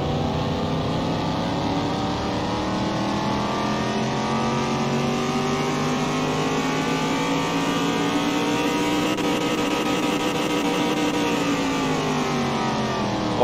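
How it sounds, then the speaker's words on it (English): A car engine on a dyno revs steadily upward in one long continuous pull, loud and close, its pitch climbing and holding high with no voices. "Here it goes, building up the revs."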